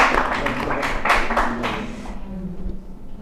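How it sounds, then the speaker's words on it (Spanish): Brief applause from a classroom or workshop audience, a short burst of scattered clapping that fades out within about two seconds, leaving quiet room noise. "Muy bien, aplauso."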